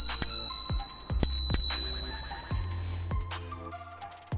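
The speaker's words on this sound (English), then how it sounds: "And the bell." The bell on an AOVO PRO electric scooter rings in a series of bright, sharp dings, several strikes in quick succession that each ring out and decay, close and clear.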